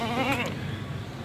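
A pregnant four-tooth goat at a livestock market gives one short, wavering bleat at close range. Faint background noise follows as the call fades.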